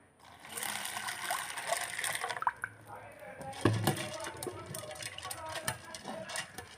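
Water poured into a cooking pot of vegetable curry, with a close trickling splash and scattered clatter from the pot.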